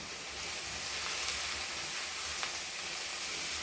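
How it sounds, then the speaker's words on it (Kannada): Chopped onions, green chillies and curry leaves fry in a pan with a steady, even sizzle and hiss that holds throughout, with no talking over it. "ಇವಾಗ ಈ ಈರುಳ್ಳಿನ ಚೆನ್ನಾಗಿ ನಾವು ಫ್ರೈ ಮಾಡ್ಕೋಬೇಕು, ತುಂಬ ಚೆನ್ನಾಗಿ ಫ್ರೈ ಮಾಡ್ಕೋಬೇಕು."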